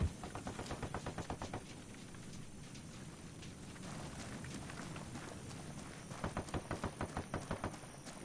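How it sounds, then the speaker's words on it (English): Rapid bursts of automatic gunfire from a firefight between cartel and rebel fighters in Ghost Recon Wildlands, heard at a distance as repeated clattering volleys with a quieter lull in the middle, no talk over it. "Looks like we just rolled up on a firefight between the cartel and the rebels"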